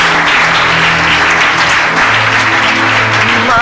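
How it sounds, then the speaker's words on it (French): A church congregation claps loudly and steadily in praise of the Lord, dense sustained applause filling the room, with a faint voice or two mixed in. "Est-ce qu'on peut acclamer le Seigneur bien fort?"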